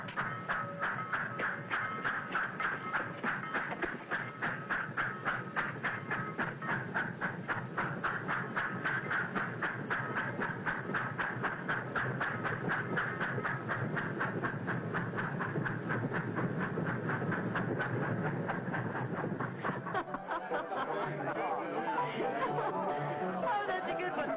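A train pulls out of a station with a steady rhythmic rumble and clatter of wheels under a hubbub of voices, then thins out toward the end.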